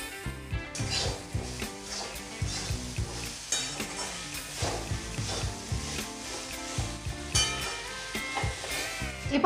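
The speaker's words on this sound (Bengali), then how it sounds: "চিড়েটাকে দিয়ে ভালো করে নাড়াচাড়া করে নেব।" Flattened rice (poha) being stirred in a pan: repeated scraping and rubbing strokes with a light sizzle underneath, uneven in rhythm, close and moderately loud, with no voices.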